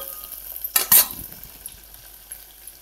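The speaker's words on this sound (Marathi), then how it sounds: "असं ही मिक्स करून घ्यायचं चांगलं।" Masala rice being stirred in a hot pan, with a short burst of scraping and sizzle near the start that fades into a low, steady frying hiss.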